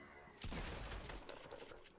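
A burst of heavy pump shotgun fire in the video game Fortnite erupts after a moment of quiet, loud and sustained, with booming blasts trailing off into rattling echoes.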